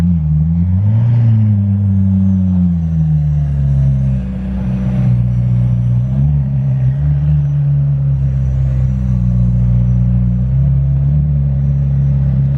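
A Ferrari F8 Spider approaches on a Monaco street, its engine a loud, steady low rumble with small shifts in pitch as it nears, no talking.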